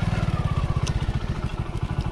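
A modified Hero Splendor motorcycle engine idles close by, putting out a steady rapid thumping exhaust beat with a faint metallic rattle, no talk over it.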